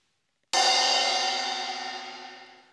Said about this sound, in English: A cymbal.